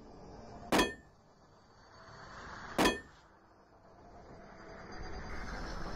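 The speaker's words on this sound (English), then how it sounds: "The item will play a unique breaking sound." Two sharp metallic clangs, about two seconds apart, sound alone as the item-breaking effect from a soundboard for the zombie board game Last Night on Earth, each followed by a brief ringing decay over a faint hum.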